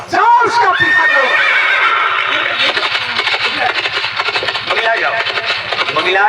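During a village nautanki stage play, a horse whinnies loudly and repeatedly, with clip-clop hoofbeats rhythmically under the calls as it moves off, while voices speak over the sound.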